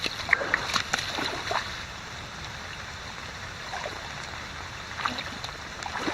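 Water running through a deep swale into a garden, a faint steady trickling and burbling flow with a few small splashes near the start and end.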